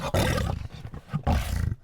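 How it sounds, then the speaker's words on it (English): A lion or tiger roars from behind a door, two deep, loud rumbling roars separated by a short pause, heard alone. "I think there's a lion or tiger behind that door."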